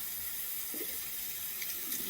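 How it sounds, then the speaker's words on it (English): Tap water runs steadily into a sink while soapy water is rinsed out of a wig, a close, even hiss of flowing water with faint splashes and no talking. "Just want to be sure I rinse all of that soapy water out."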